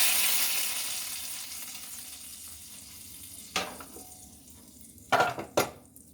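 Black cumin seeds frying in ghee in a kadai: a hissing sizzle that fades over the first seconds, then a few sharp clanks and scrapes of a spoon stirring against the pan, close and fairly quiet.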